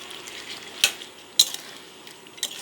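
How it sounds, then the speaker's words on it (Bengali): Mutton with ginger-garlic paste stirred in a pan for a banana flower curry, a soft steady sizzle broken by a few sharp scrapes and clinks of a spoon against the pan; no talking. "মাংস খুব ভালোভাবে কষিয়ে নিতে হবে"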